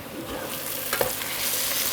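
Onions with ginger and garlic frying in a pan, a dense, loud, continuous sizzle heard up close with a brief stirring scrape in the middle and no speech.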